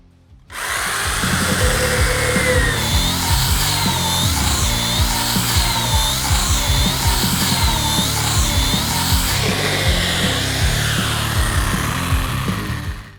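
An electric chainsaw cuts through a log of about 16-17 cm, its loud steady whine running almost unbroken from start to finish with no talk over it.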